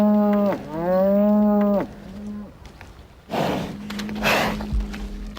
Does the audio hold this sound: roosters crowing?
no